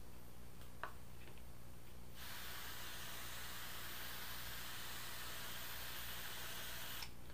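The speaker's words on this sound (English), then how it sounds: "Give it a good spray." Water sprayed from a hand spray bottle onto sphagnum moss in a small pot propagating Cephalotus follicularis leaf pullings: a steady, close hiss of broad mist lasting about five seconds, with faint clicks just before it.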